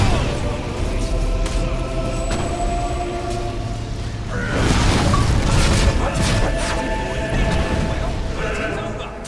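A heavy mortar explosion in the action role-playing game Fable III. A loud boom with a crashing burst of debris rises midway, over ongoing battle noise, and voices can be heard around it.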